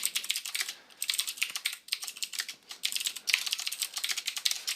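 Rapid typing on a computer keyboard, dense bursts of close, crisp key clicks with brief pauses between runs, no voices.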